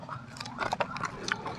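Crunchy small salted fish eaten raw alongside raw vegetables and petai, with close, loud biting and chewing crunches repeating irregularly throughout.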